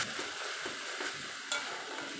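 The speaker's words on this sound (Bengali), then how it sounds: "একটু জল দিয়ে কষাবো।" Masala with onion, ginger-garlic paste, tomato and ground spices cooks in a pan with a little water, giving a steady, fairly quiet sizzle with occasional soft stirring scrapes.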